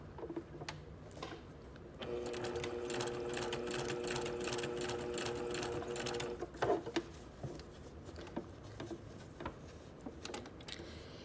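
A sewing machine stitches two layers of fabric in a steady, fast mechanical whir for several seconds, preceded and followed by quieter handling clicks and taps, with no talking.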